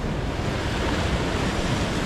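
Powerful sea surf and backwash on the shore during bass fishing from the beach, a dense continuous roar with wind noise buffeting the microphone, no voices.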